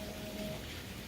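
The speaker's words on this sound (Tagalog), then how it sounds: "Umuulan." Rain falls at night in an American neighbourhood, a soft continuous hiss of drops on surfaces, faint and steady with no other sounds.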